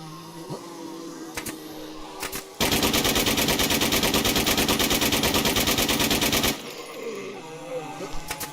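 A sustained burst of rapid automatic gunfire in the zombie video game NewZ, about four seconds long, loud and rhythmic, with quieter game sounds before and after.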